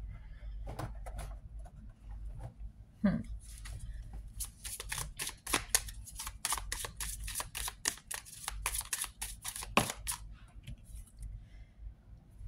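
Tarot cards riffled and snapped in a rapid, crisp burst of flicks and slaps, with a few softer handling thumps before and after, close and clear with no talking.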